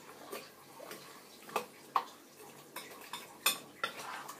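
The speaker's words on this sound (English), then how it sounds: "Now I'm going to grab my spoon and I'm going to give it a quick stir." A spoon scraping and clinking against a pot of stew, a series of sharp close metallic knocks and scrapes spaced irregularly, fairly quiet with no voices.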